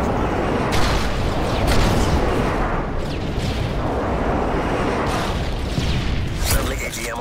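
Airstrike explosions in the video game Call of Duty MW3, heavy rumbling booms and dense blasts that merge into a continuous loud roar, with voices mixed in.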